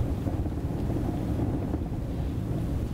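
Cold wind rushes steadily past on a bitter day, a dense, continuous low roar and buffeting without any talk.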